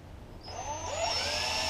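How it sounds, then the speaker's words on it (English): A power drill starts up and whirs steadily, its pitch rising slightly as it bites into wood, close by with no talking. "start drilling that in there"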